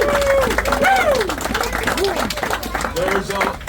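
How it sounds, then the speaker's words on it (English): Crowd applause for a volunteer bus driver, clapping mixed with cheering and whooping voices, a lively, fairly loud wash of sound from a gathered audience. "I'd like to give Mr. Joe Gilbert, the driver of the bus, a big round of applause"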